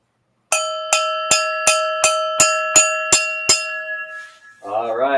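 A cowbell is struck on a livestream with nine evenly spaced, bright metallic clanks, each ringing briefly, loud and close, followed by a voice speaking.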